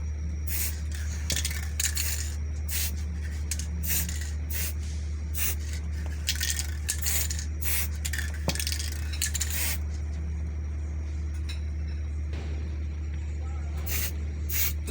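Spray paint hisses onto a fascinator hat in a series of short bursts, close and moderately loud, with a steady low hum underneath.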